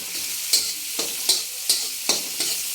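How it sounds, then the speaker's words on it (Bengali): Sliced onions fry in hot oil with a steady sizzle while a spatula scrapes and stirs them in regular strokes, about every half second, close and clear with no talking. "পেঁয়াজ দিয়ে আমি একদম লাল লাল করে ভেজে নিব।"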